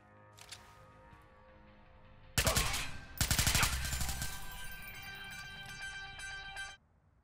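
Machine gun fire in the video game Watch Dogs: loud rapid bursts of automatic shots breaking out after a quieter stretch, dense rattling volleys that trail off into a sustained ringing tail before cutting out.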